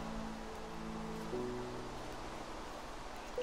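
Rain falls in Minecraft as a soft, constant hiss of broadband noise, with faint tonal game sounds beneath it and no speech.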